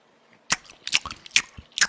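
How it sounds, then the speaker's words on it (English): Chewing a bite of Little Caesars 3-meat treat pizza, close and wet, with a string of crunchy, squishy bites and mouth smacks in uneven bursts over about a second and a half. "Oh God, I can hear the chewing."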